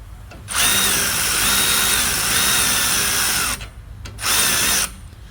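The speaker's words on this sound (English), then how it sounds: "let me use my speed drill." A loud power drill driving screws whirs steadily for about three seconds, stops briefly, then runs again in a shorter second burst; close by, with no talking.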